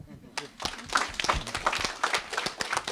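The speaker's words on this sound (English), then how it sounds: "Now you can give them applause." Audience applause at an alumni career panel, a burst of clapping building after a moment and carrying on steadily, moderately loud, with a voice talking over it.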